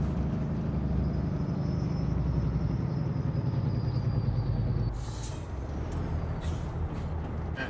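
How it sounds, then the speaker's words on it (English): Heavy truck engine-brake deceleration from Euro Truck Simulator 2 with a sound mod, a loud steady rumbling drone that drops in pitch and shifts character partway through, with brief hissing bursts near the end. "These are the best deceleration Jake brake"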